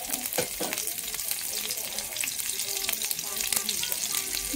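Two chopped green chillies drop into two spoonfuls of hot oil, producing a steady, close sizzle with crackling spits and pops throughout, and no one talking.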